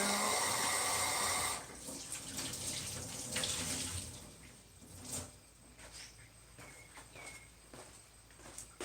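Tap water runs into a sink to wet a towel, loud and steady for the first second and a half, then softer splashing and dripping with a few faint knocks and steps.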